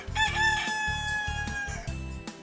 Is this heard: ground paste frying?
no